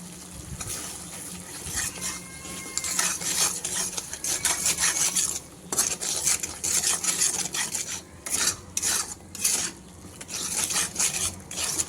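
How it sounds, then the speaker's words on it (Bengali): A spatula scrapes and stirs thick spice paste for egg curry in a frying pan, making steady, close rasping strokes in an uneven rhythm that run without pause. "মশলাটা আর একটু সময় ধরে কষিয়ে নেব, তাহলে মশলাটা অনেকটাই কমে যাবে।"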